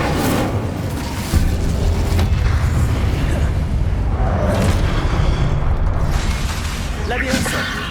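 Fiery spell blasts from the Incendio charm in Hogwarts Legacy, heard as a dense, continuous roaring boom and crackle of combat effects, loud throughout with a sharp burst near the start and spell-casting voice calls mixed in.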